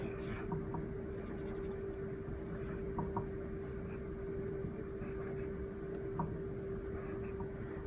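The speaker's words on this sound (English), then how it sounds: "I'm going to write the words first and then do the bubble around it." Pen or pencil writing words on paper while drawing a comic thought bubble: faint, close, intermittent scratchy strokes over a low steady hum, no talking.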